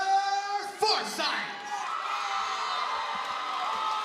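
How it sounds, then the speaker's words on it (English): Arena crowd at a live MMA event in Memphis, Tennessee, cheering, whooping and shouting as a fighter walks out, a steady loud roar with a brief surge of yells near the start. "You can hear the crowd there."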